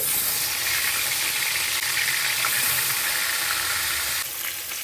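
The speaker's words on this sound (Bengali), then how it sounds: "আমি কড়াইতে আরও একটু সর্ষের তেল দিয়ে দিচ্ছি মাছগুলো একে একে ছেড়ে দিচ্ছি" Fish frying in mustard oil in a wok, a loud, close, continuous hissing sizzle that holds steady and eases slightly near the end, with no voices.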